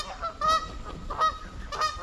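Geese honking as they land on a creek, three separate nasal honks spaced evenly over a couple of seconds, moderately close with a faint background hiss.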